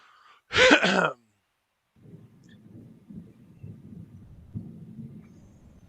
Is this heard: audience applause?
no